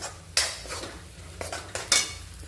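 A spoon stirs tomato paste masala in a pan: a few sharp scrapes and clinks over a soft background sizzle, close and fairly loud.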